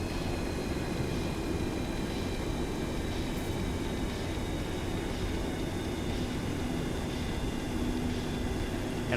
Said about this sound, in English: Airplane sounds great.